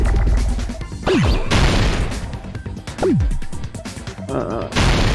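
Bursts of explosions from the video game Danganronpa 2: Goodbye Despair, several loud booming blasts in a row, each with a falling whoosh, over busy game sound.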